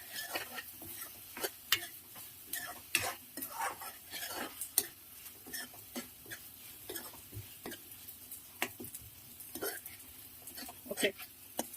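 Tomatoes cooking down in a pan for a mixed vegetable curry, with repeated scraping and stirring clicks over a soft sizzle, close and moderately loud, while a person talks throughout.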